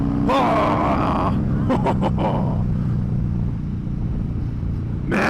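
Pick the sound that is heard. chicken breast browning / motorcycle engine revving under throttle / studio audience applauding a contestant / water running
motorcycle engine revving under throttle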